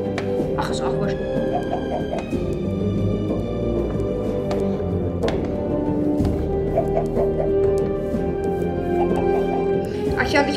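Chickens cluck in the video game Minecraft, short clucks and squawks scattered over about ten seconds beneath sustained game music with sharp tonal notes.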